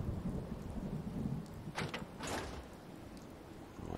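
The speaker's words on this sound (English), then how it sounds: "It looks like there's a storm rolling in." Thunderstorm rolling in during a Fallout 4 game: steady rain hiss under a low rumble of thunder, with a couple of brief sharper cracks midway, moderately loud and without talk.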